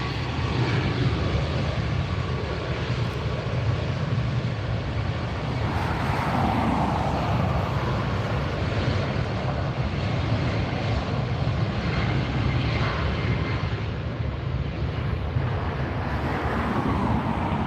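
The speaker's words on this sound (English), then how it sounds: "This Southwest is going to be heading off to Nashville. BNA is the airport code. It's a 737 MAX 8." A Southwest Boeing 737 MAX 8 jet at LAX airport, heard as a continuous broad engine roar outdoors, steady and moderately loud throughout with no talking.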